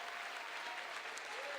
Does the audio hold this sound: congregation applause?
yes